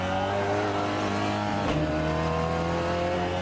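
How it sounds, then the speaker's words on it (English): A Peugeot 308 RCZ racing cup car on track at Tsukuba, its engine held on the rev limiter. It makes a loud, steady in-car drone with a brief dip in the middle. "Sat on the limiter a little bit there, and we've lost a bit of time."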